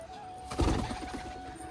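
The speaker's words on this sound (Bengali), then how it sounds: "এটা একটা দেশি পায়রা ঠিক আছে" Native deshi pigeon giving a short, soft burst of low pulsing coos, faint and close against a quiet background hum.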